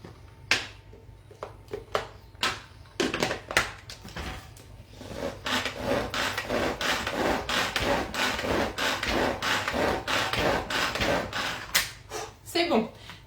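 A knife chops stuffed-tomato filling on a board, with sparse taps at first and then a dense run of rapid rhythmic cuts, close up, with a person speaking at moments.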